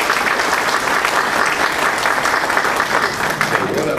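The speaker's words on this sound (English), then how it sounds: "Let's just give both these gentlemen a round of applause." Audience applause fills a local government panel session at a project delivery workshop, with a steady, dense wash of many hands clapping, loud and sustained throughout.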